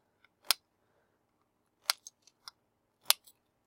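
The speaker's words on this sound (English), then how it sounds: "we'll trim off the excess leads" Wire cutters snip excess component leads on a small LED flasher circuit board: three sharp, close clicks spaced about a second apart, each followed by faint tiny ticks, in an otherwise quiet room.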